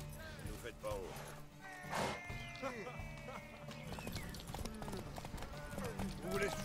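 Horse hooves clip-clop in The Witcher 3, rhythmic footfalls under game music and ambient sound, with a brief louder thud and voices speaking in places.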